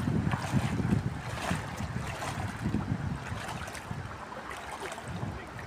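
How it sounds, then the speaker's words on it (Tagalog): Strong wind outdoors near water buffets the microphone in continuous rumbling gusts with a rushing hiss, and no voices. "Mahangin po kasi."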